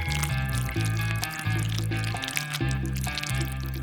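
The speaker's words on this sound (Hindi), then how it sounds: "मैं अपनी ड्रिंकिंग स्ट्रॉज में ग्लेज डालूंगा।" Colored glaze trickles and pours into drinking straws, a close liquid filling sound with short gurgling bursts and brief pauses over about four seconds.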